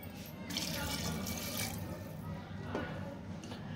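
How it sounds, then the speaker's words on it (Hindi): Steady stream of water gushing into a metal pressure cooker, close and continuous, with faint clinks underneath. "अब हम इसमें पानी डाल देते हैं।"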